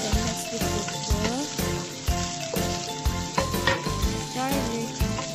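Ginger stir-fries in a hot pan for Chinese-style chicken, with a steady oily sizzle broken by repeated scraping strokes of the spatula against the pan. No one speaks.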